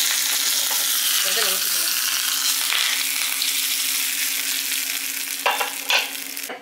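Dried red chillies, mustard seeds and curry leaves crackling in hot oil for tempering, a steady close sizzle throughout with a few sharper pops near the end, and a brief spoken line over it.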